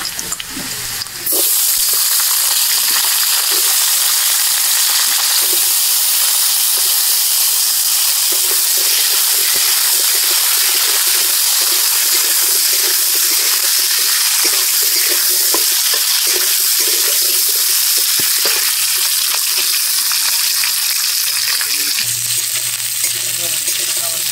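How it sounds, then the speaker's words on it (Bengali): Chopped onion and potatoes fry in oil in a pan, a loud, dense, unbroken sizzling hiss that starts abruptly and holds steady for the whole stretch, with faint stirring underneath. "পেঁয়াজ বাদামি হয়ে এলে এবার প্রথমেই কেটে রাখা আলুগুলো দিয়ে দেবো।"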